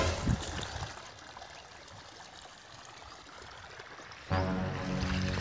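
Water rushes steadily through a farm irrigation pipeline watering a wheat field, a continuous close gushing that swells louder and fuller near the end.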